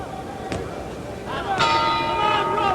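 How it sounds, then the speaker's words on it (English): A boxing round bell rings at a televised heavyweight fight, two sharp metallic clangs about a second apart that ring out over crowd noise and a commentator's voice. "There's the bell."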